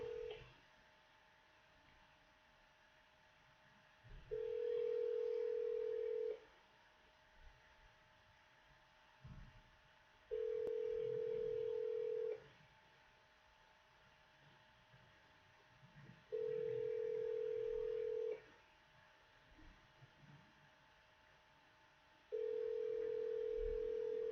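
Telephone line on a mobile call-back attempt: a steady tone sounds in regular on-off pulses, each about two seconds long and separated by quieter gaps with faint background hiss, repeating four times.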